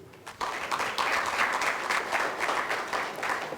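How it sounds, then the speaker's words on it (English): An audience at the Rwanda ECD International Conference breaks into sustained applause, a steady wash of many hands clapping that swells quickly and holds without voices. "Another round of applause, please."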